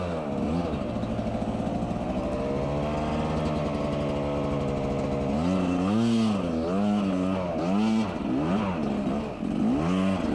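An off-road motorcycle engine climbs a hill, loud and close. It holds a steady drone, then rises and falls in repeated surging revs as the rider works the throttle.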